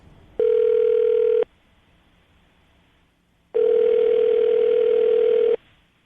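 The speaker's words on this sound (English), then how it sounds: "I'm going to dial the phone number right now" Two long, steady ringback tones from a telephone, each about a second or two, separated by a pause, loud and clean with no talking.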